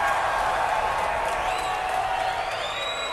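Arena crowd at a live televised wrestling event applauds, cheers and whoops loudly and continuously, a dense roar with scattered shouts throughout.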